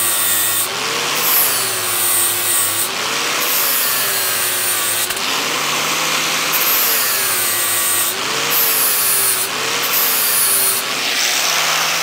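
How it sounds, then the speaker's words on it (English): An angle grinder cuts the top off a metal fitting on a steam wagon oil valve, a loud continuous whine rising and falling in pitch as the load changes, with brief breaks in contact, close up and without talk. "Grind the top of that off"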